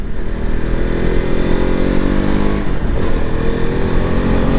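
KTM RC200 BS4 sport motorcycle accelerating hard along a main road, its engine a loud, continuous drone whose pitch climbs steadily, with no voices.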